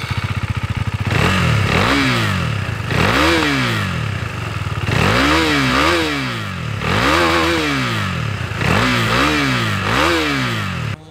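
KTM Duke 390 motorcycle engine revving hard at close range, loud repeated throttle blips rising and falling in pitch over a steady idle, with no talking.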